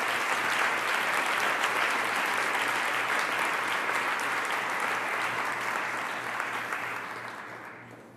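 A church congregation at a Sunday service claps in sustained, dense applause that carries on steadily and then fades out toward the end.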